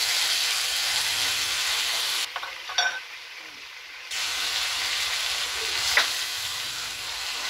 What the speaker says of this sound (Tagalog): Tapos igigisa na natin yung tuna